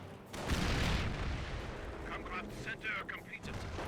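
Gunfire in the World War II strategy game Company of Heroes: a heavy boom and rumbling burst of shots, followed by scattered distant battle noise under a commentator's voice.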